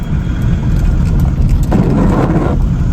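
Steady rain hiss fills the clip, with a broad roar swelling in the middle like passing traffic or distant rumble, on a foggy highway drive from Bangalore to Mumbai.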